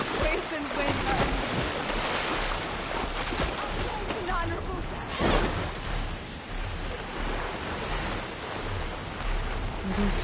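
Ocean waves wash against the shore while wind rushes through a coastal scene in the video game Horizon Forbidden West. Broadband surf noise rolls on continuously with a few louder swells and irregular splashes.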